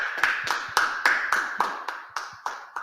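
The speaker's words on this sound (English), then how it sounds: "Let's go ahead and clap it up." Inside a Harlem meeting hall, an audience claps in a steady, even rhythm of about ten sharp, close claps, with no voices over them.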